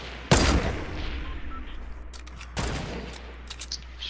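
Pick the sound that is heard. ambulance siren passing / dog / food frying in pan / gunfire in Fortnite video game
gunfire in Fortnite video game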